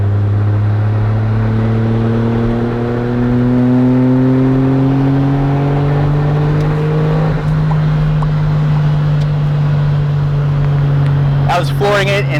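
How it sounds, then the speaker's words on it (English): Autozam AZ-1 kei car engine floored in third gear, a steady rising drone that climbs in pitch for several seconds before levelling off, loud and close from inside the cabin, with a brief clatter near the end. "I was flooring it in third gear, and you barely get up to speed."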